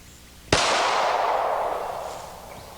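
A single sharp gunshot from a Glock Model 30 pistol fitted with a 460 barrel, close and loud, followed by a long, fading echo that rolls on for about two seconds.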